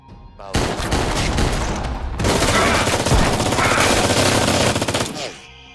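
Rapid bursts of automatic gunfire in an action film, loud and dense, two sustained volleys separated by a brief pause, ending in a fading echo.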